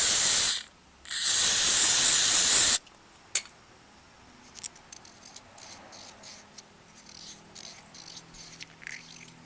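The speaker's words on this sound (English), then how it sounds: "Spray a little bit of brakes parts cleaner in here." Two close bursts of aerosol brake parts cleaner sprayed into the dirty carburetor bowl of a Honda push lawn mower, a loud hissing blast, a brief pause, then a longer one, followed by quiet faint clicks and handling.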